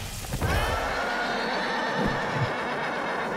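A horse in the video game Devil May Cry 5 lets out a loud, drawn-out neigh with harmonic whinnying over a dense rumbling game soundscape, with a couple of low thuds.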